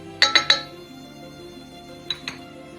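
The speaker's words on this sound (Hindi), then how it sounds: "और बर्तनों की कितनी खूबसूरत आवाज़ है ना" Cooking pots and utensils clink as onion, garlic-ginger paste and spices go into a curry of black chickpeas: three quick sharp metallic knocks, then two more after a pause, close and alone.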